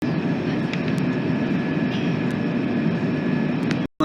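Continuous low rumble of Madrid's Atocha station hall with a train idling nearby, a steady hum and a few faint clicks, no one talking.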